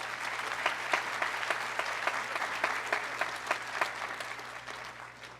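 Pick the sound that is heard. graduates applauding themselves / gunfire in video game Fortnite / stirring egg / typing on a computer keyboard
graduates applauding themselves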